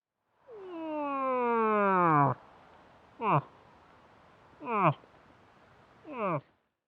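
A person imitates a moose call: one long, drawn-out moaning call with falling tone, then three short grunting calls spaced about 1.5 seconds apart.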